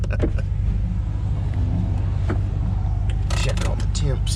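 A Ford Coyote V8 swap car with open headers idles with a steady, loud low rumble up close, its engine note continuous throughout, with a few brief higher clanks and small revs near the end.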